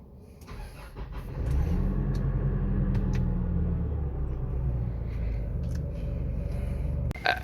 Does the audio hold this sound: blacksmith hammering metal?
no